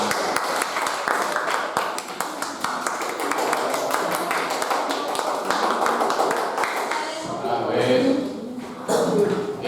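A classroom of students breaks into applause, a dense patter of many hands clapping that fades out, with voices talking over and after the clapping.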